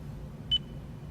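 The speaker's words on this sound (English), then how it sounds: "After the beep, say a shortcut menu command." Voice command prompt chime in a 2015 Lexus RX350: a single short high beep with a faint tail, heard once over low cabin hum.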